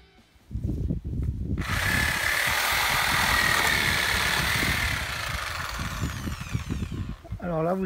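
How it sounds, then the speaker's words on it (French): A loud power saw whines steadily through pallet wood for several seconds, with a voice briefly before it starts. "Là, la scie va pouvoir passer."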